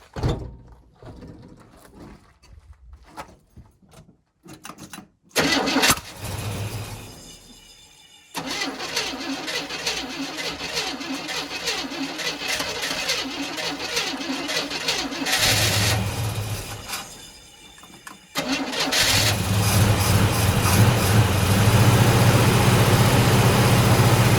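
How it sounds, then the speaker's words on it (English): A carbureted engine cranks in several short bursts with pauses, then catches and settles into a loud, rough, steady idle close by. "I have put some fuel in the carb and stuff like that, so I'm gonna see if it cranks over."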